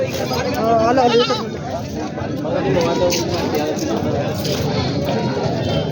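Goats bleat over and over at a busy goat market in Jawala, Maharashtra, wavering cries rising out of loud crowd chatter and nearby talking.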